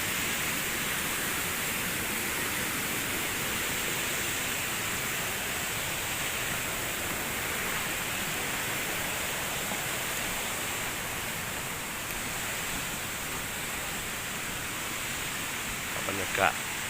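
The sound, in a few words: waterfall in Attapeu Province, Laos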